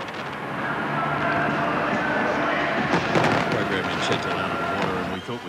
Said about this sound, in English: the final stages of a 14-minute firework display from atop Buckingham Palace